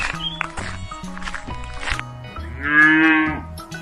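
A cow moos in deep, drawn-out lows, several rising and falling calls that end in a louder, strained moo near the close, heard close and clear without speech.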